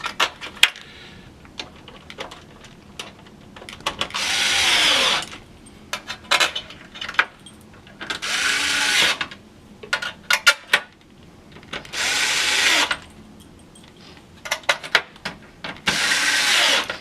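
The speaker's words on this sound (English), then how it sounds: "we're going to put the Torx T10 screws back in place" Torx T10 screws are driven back into an Xbox One console with a screwdriver. Repeated bursts of close metallic scraping and ratcheting alternate with light ticks and handling clicks, and nobody speaks.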